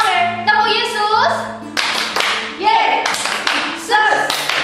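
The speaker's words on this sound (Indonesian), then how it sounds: "bilang tepuk Yesus, adik-adik menepuknya demikian" Children clap their hands in a Sunday school clapping game, with loud rhythmic clap bursts mixed with sung and spoken voices close by.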